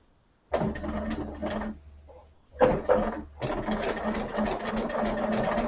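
A Bernina sewing machine runs its knotting feature while quilting with a walking foot, in close, loud mechanical bursts: a short run, a pause, then two more runs, the last continuing steadily.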